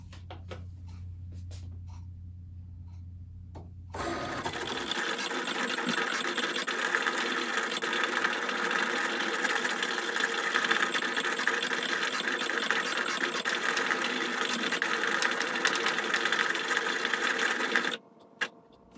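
A Cricut cutting machine whirs steadily as it cuts material, a loud, even mechanical drone that starts a few seconds in after a quieter hum and stops abruptly near the end.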